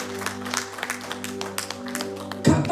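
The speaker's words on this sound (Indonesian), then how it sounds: "Beri tepuk tangan buat Tuhan" A church congregation applauds, with scattered claps crackling over a steady sustained keyboard drone, then a louder burst of clapping near the end.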